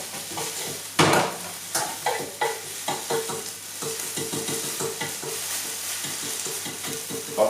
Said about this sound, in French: vous avez des oignons qui caramélisent de l'autre